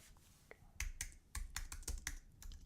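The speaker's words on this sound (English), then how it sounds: "We're typing on the computer, highly unprofessional" Fingers tap a computer keyboard in short irregular bursts of soft clicks, fairly quiet and close, with brief pauses between the keystrokes.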